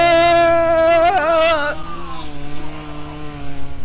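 Leatherface's chainsaw roaring in a Texas Chainsaw Massacre VR video game, a loud close harmonic engine whine that rises in pitch as it revs, then drops to a lower rough idle with pulsing surges.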